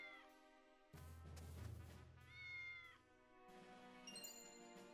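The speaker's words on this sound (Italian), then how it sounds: "Un gattino." A kitten meowing in the video game Triangle Strategy: several clear, high, drawn-out mews in a row, close and prominent with no talk.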